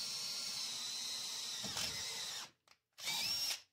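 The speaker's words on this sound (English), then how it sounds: "now I'm just pre-drilling a couple of holes in it so that I can screw it into the wall" A power drill whirs steadily, bites briefly into wood while pre-drilling holes, stops, then spins up again for a short second burst; close and fairly loud, no talking.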